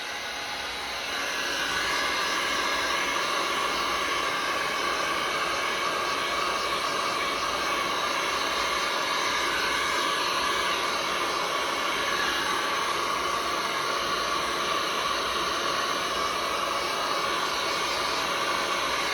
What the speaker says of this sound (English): So I'm gonna try my heat gun again.